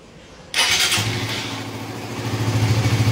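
A Suzuki motorcycle engine cranks and catches after an emergency smartkey unlock, then settles into a steady, close idle that rises slightly toward the end.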